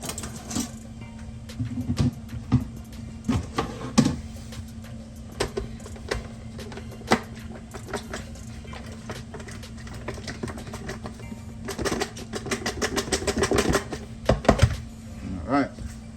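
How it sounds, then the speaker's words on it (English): Chicken wings shaken in a covered container, a clattering run of rapid knocks and rattles coming in bursts, loudest toward the end, with a voice talking in between. "I'm going to put the cover on this and give it a quick shake."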